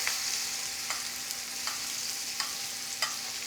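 A cowboy steak sears in a pan, basted with garlic, vegan non-dairy butter and rosemary, giving a steady close sizzle with regular soft spoon-basting taps, no talking.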